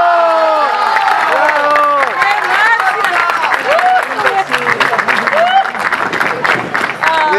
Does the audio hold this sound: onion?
no